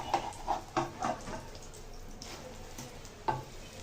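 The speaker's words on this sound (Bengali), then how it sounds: "কত বড় একটা ডিম ভাজছি" Three eggs fry in a hot pan for an egg and potato mash, giving a steady crackling sizzle punctuated by sharp spatters and scraping stirs in the first half, then quieter hissing with one later pop.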